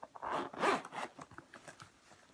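A zipper being drawn shut on a Dooney and Bourke woven Camden bag, close and crisp, with one longer pull followed by several short, quieter tugs.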